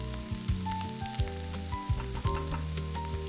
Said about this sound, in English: We add the aromatic pieces right to the skillet with the golden onion. We stir quickly.